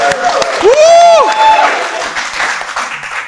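Audience at a stand-up comedy show clapping and cheering, loud and close, with a whooping voice rising above the applause early on before the clapping thins out.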